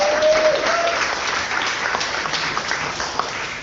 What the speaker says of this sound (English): Big round of applause for all the team.